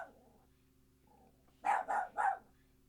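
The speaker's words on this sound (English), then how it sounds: "I don't know what she's barking at." A dog gives three quick, sharp barks in a row after a quiet stretch of low hum.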